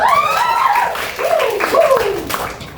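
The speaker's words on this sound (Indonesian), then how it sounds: "Tepuk tangan dulu dong." Schoolchildren clapping in a classroom after praise from the teacher, close, lively applause with children's high voices cheering and calling out over it.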